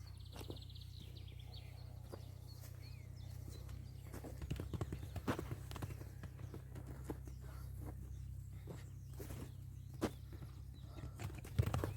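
A horse's hooves clip-clop at an unhurried walking pace on hard ground in a pasture, irregular and fairly close, over a low steady hum with faint outdoor ambience.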